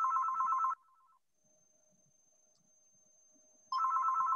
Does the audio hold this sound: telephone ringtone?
yes